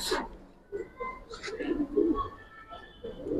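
Giribaz pigeons in a pigeon seller's loft give soft, low cooing calls close by, mixed with a brief flutter and ambient bird noise, while someone talks over them.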